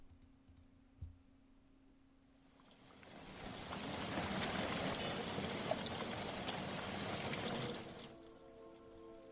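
Heavy rain as a sound effect in a Korean horror radio story swells in after a quiet start into a dense, steady downpour that holds for several seconds, then cuts off abruptly.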